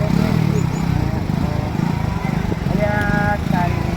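A motorcycle engine runs steadily through floodwater after heavy rain, a rough continuous drone near the listener with faint splashing and talk in the background.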